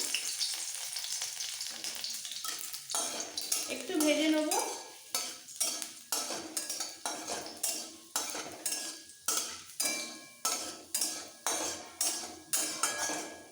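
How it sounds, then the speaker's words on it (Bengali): Finely chopped garlic is stirred in a hot pan of tempering oil, with a metal spoon scraping in a quick, regular rhythm of repeated strokes over a faint sizzle. "এই কুচনো রসুনটা দিচ্ছি এই সময়"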